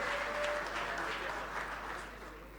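A seated audience at a Zimbabwe ICT innovation fund launch applauds a Minister of State for Provincial Affairs, with continuous clapping over a low hum that slowly tapers off.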